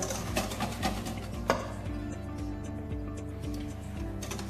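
Hot milk is whisked into egg yolks in a bowl for a French pastry cream, making a brisk, rapid, steady ticking scrape close by with no talking.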